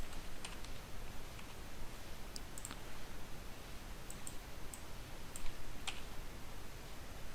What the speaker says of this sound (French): donc ici on appuie sur la touche U